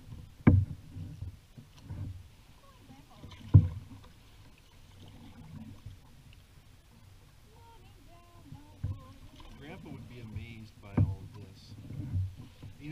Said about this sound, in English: As I paddled my canoe